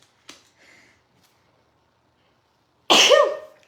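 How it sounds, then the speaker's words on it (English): A single loud, sharp sneeze bursts out near the end, after a couple of faint breathy sounds and a long stretch of near silence. "Oh, I'm gonna sneeze."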